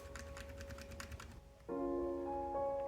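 Brown Gateron mechanical switches on a Blitzwolf BW-KB1 keyboard click in a quick run of about eight crisp keystrokes, then stop as a steady electronic tone takes over.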